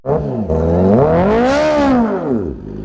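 A motorcycle engine revs up close, its pitch climbing then falling back in one long, loud throttle sweep before settling to idle.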